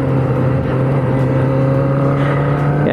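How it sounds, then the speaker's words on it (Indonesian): Kawasaki ZX25R motorcycle ridden through city streets in Bekasi, its engine a loud steady drone with a constant pitch that climbs slightly toward the end, heard close throughout with no talking. "jadi jalan-jalan aja keliling Bekasi naik ZX25R"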